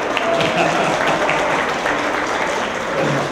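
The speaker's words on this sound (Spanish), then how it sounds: "venga ese aplauso" Crowd applause at the closing of an artistic event, a dense, steady clapping that lasts the whole time with some voices mixed in.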